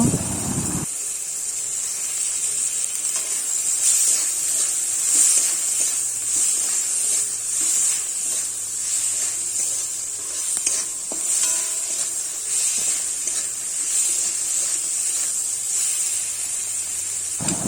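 Chopped tomato hits a hot pan of spiced oil and sizzles steadily, a continuous close, bright frying hiss with faint stirring scrapes, no voices.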